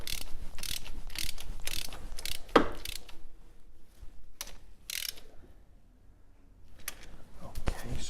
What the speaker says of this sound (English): tightening up on the stud.